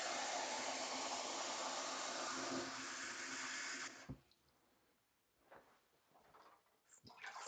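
Water pours steadily from a kitchen tap into a measuring jug for soft pretzel dough, a loud continuous rush that stops abruptly partway through, followed by quiet clinks and handling sounds.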